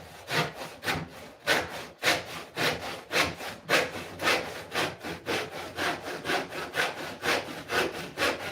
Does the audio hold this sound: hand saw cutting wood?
yes